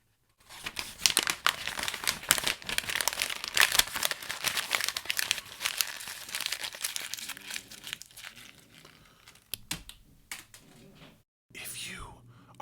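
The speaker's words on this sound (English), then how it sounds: "dropping the mic is crumpling a piece of paper and dropping that." A sheet of paper is crumpled close to the microphone in a long, crackling series of crinkles, then softer handling and a brief final rustle as it is dropped, with faint whispering.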